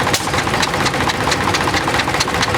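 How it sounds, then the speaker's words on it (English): A 1936 Caterpillar RD6 crawler tractor idles nearby with a steady, rough, loud chugging rumble and a broad mechanical clatter over an outdoor show background. "It's a 1936 RD6 Caterpillar."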